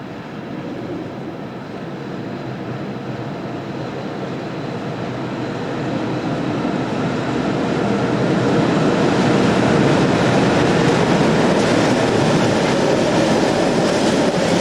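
DB Class 140 electric locomotive 140613 approaches and passes with a broad rumbling roar that swells steadily louder, with faint rhythmic wheel clatter and no voices.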